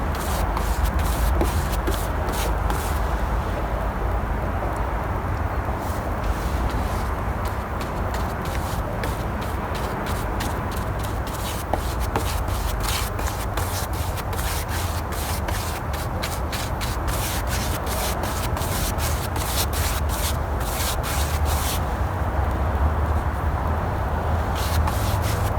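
A cheap 2-inch brush spreads BEHR clear wood finish over raw pine in steady, close back-and-forth strokes, a continuous dry rubbing and swishing with no speech.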